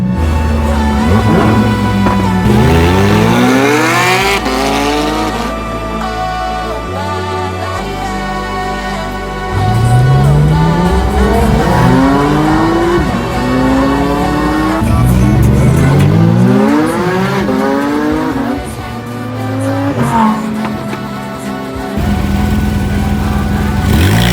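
A Porsche sports car in Dubai revving hard and accelerating through repeated gear shifts, its engine pitch sweeping up and dropping again, loud and close with no talk.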